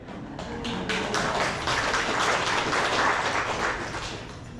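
Applause breaks out at a birthday announcement during an online coffee chat, a dense, steady patter of many hands clapping for several seconds without talk.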